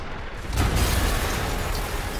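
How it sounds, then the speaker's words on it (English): A loud explosion in Marvel's Spider-Man Remastered bursts out after a brief moment and rolls on as a sustained, broadband rumbling roar. "an explosion just..."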